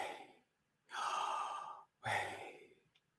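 Breaths drawn in during a breathing demonstration: two long, airy inhalations about a second each, separated by a short pause, close and fairly quiet, with no talking over them.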